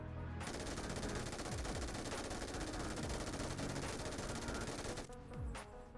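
MG3 machine gun in PUBG firing a long continuous burst at a BRDM armored vehicle, loud rapid automatic shots for about five seconds, then stopping with a few trailing impacts.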